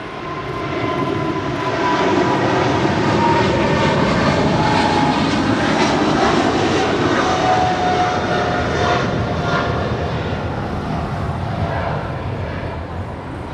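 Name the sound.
Eva Air Cargo Boeing 777 freighter departing at LAX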